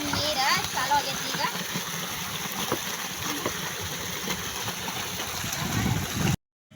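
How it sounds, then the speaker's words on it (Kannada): Irrigation water begins flowing into a farm field, a close, splashing, gurgling stream over a faint engine hum, with a voice talking over it before the sound cuts off abruptly. "ಇದು ನಮ್ಮ ನೀರು ಚಾಲು ಆಗೈತಿ."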